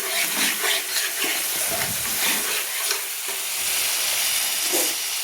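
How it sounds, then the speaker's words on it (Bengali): Onion and tomato paste sizzle and crackle in hot oil as a spoon stirs them, a steady close frying hiss with soft scraping strokes for Bengali potol chingri. "তেলের মধ্যে পেঁয়াজ টমেটোটাকে ভালো করে কষিয়ে নিচ্ছি।"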